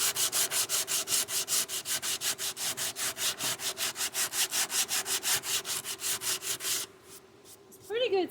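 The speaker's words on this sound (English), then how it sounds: "This is some sandpaper I bought at an auction" Sandpaper scrubs across scrap wood by hand in quick, even back-and-forth strokes, close and rhythmic, for several seconds before stopping, followed by a few light scrapes.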